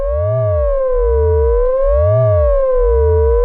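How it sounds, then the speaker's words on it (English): Moog Matriarch synthesizer with ring modulation: a loud low C pulses in slow regular throbs while a higher tone glides smoothly up and down between the third and the octave, sustained and alone. "the low C pulsing and then the higher wave swooping between the third and the octave."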